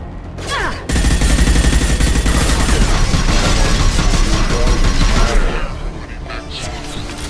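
Heavy exchange of gunfire during a firefight in the video game Mass Effect 2, dense overlapping shots and blasts booming loudly and steadily for several seconds before easing off.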